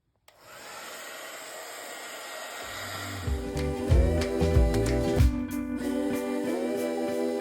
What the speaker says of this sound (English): I might go ahead and use my heat gun and speed up the drying process a little with this